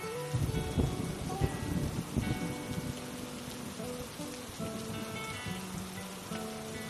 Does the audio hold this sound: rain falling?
yes